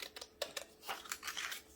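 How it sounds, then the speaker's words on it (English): Scissors snip through layered paper card for a pop-up cake card, a quick series of crisp, close cuts with short gaps between them and no talking. "you're going to take your scissors and cut the layers"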